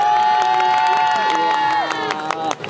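A street crowd at a girl dance team's busking show in Hongdae cheers and claps over loud music with sustained tones, the shouts and applause filling the mix throughout.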